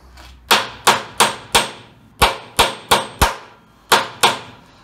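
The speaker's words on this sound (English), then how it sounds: "Now what I'm going to do is just use an old impact socket that just fits inside that hole." U-joint bearing caps on a Jeep driveshaft driven in with an old impact socket and a hammer, about ten sharp metallic blows in irregular bursts, close and loud, no talk.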